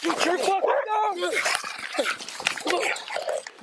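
A dog barks, yelps and whimpers close by in a loud, chaotic scene, its cries tangled with shouting voices.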